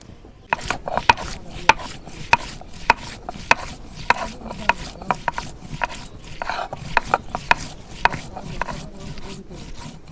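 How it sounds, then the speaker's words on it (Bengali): Spices being ground on a grinding stone for a chicken curry, rhythmic scraping strokes repeating roughly twice a second, close and distinct. "এখন মশলা বাইডে নিতেছি।"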